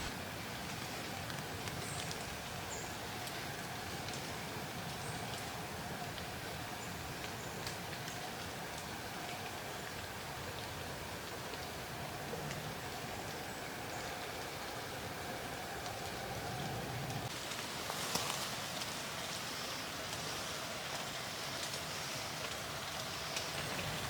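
Steady rain patters on a tarp stretched over hanging outdoor gear at a bushcraft camp, a dense, even hiss that holds throughout with no talking.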